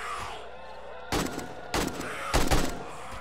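Turrets fire in 7 Days to Die in three loud, rapid bursts spaced about half a second apart, each a tight cluster of sharp shots over quiet background.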